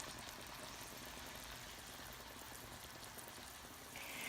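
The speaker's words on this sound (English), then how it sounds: "So the wine is now in the skillet and it's reducing." Wine simmering and reducing in a skillet while cooking mussels, a steady soft bubbling hiss that runs unbroken and quiet from start to finish.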